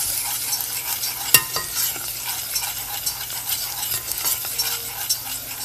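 Garlic sautés in a pan with a steady broadband sizzle, broken by light stirring clatter and one sharp utensil knock near the start, close and moderately loud with no talking.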